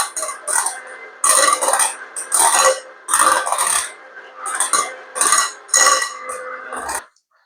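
Tiramisu cream, an Oreo dessert mixture, being stirred in a bowl, heard as rhythmic bursts of scraping and rubbing against the bowl, repeated about seven times at close range with no talking.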